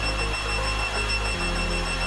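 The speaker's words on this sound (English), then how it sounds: "Veccds detected a fire hazard and issues an alarm." A Veccds aspirating smoke detector sounds a fire alarm as heated paper begins to scorch, giving a steady electronic tone that carries without pause across the whole stretch, with no voices.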